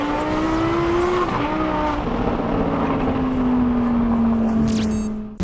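A loud McLaren 720S sports car engine at a track day, a sustained droning roar with a steady tone that slowly drops in pitch, close and continuous with no talk.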